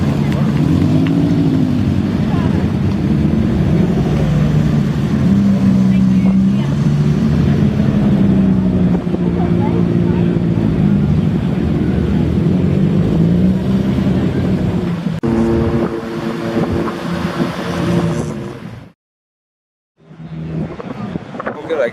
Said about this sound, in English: You can hear the engine run.